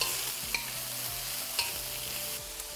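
Thinly sliced Spanish onions are stirred into eggplant cooking in a hot wok, giving a steady sizzle with scraping stirs and a few light clicks of the utensil against the pan.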